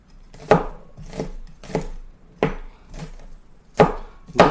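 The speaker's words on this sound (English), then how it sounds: "Rough chop on our garlic." Knife rough-chopping garlic on a wooden board, seven sharp near thuds landing in an uneven rhythm with short pauses between strokes, no voices.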